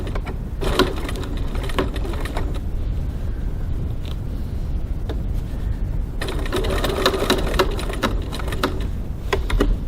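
Stitching a rectangular box on a crossbody bag, a sewing machine runs in two bursts of rapid mechanical chatter with a quieter stretch between them, close up and without talk.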